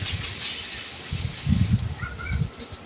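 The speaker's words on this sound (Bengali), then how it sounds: "এখন আমি ভালো করে কষিয়ে নেবো" Chicken pieces sauté with a ready-made spice mix in a pan, giving a broad steady hiss with bursts of stirring and scraping, close and alone.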